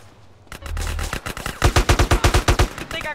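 Gunfire in GTA: San Andreas: a few scattered shots, then a rapid burst of about a dozen loud, evenly spaced rounds close by, with a lighter crackle of distant shots behind.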